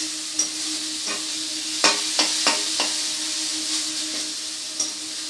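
Spice masala with tomato sizzles and fries steadily in a pan for dhaba-style egg tadka, a close, loud hiss broken by a few sharp scrapes and clinks of a stirring spoon, with no voices.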